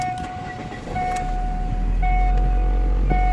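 A car engine turns over and catches, then idles steadily with a constant low rumble and a sustained hum, close by and continuous after a brief start at around one second.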